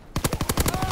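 Rapid gunfire in a first-person shooter game, a dense run of about eight sharp shots in steady rhythm, loud and close, with no talk over it.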